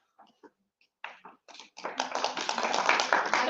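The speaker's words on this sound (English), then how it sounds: "thank you for clapping" An audience at an education conclave breaks into clapping that starts as a few scattered, tentative claps and swells into steady, dense applause filling the room.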